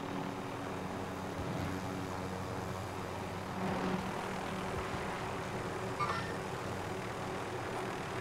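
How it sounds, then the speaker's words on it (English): A helicopter in the Warzone video game approaches as a steady low rotor and engine drone that holds throughout, with a few brief game effects on top. "Oh, there's another heli coming."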